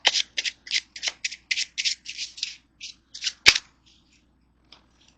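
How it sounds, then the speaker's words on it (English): A deck of playing cards being shuffled during a card trick, a quick series of crisp riffling bursts up close, then a sharp snap and a few faint taps as the cards settle, with no talking. "They can take the other 2 piles and shuffle them."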